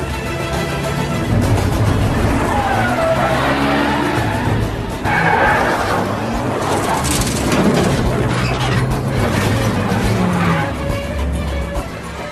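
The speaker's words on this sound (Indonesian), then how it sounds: "Ia pun langsung tancap gas mencoba untuk kabur, tapi Kirill pun langsung mengejar mereka." Cars tear through a chase in The Bourne Supremacy film, engines roaring loudly as tires squeal and skid repeatedly across several long, intense stretches, with occasional heavy thumps in the mix.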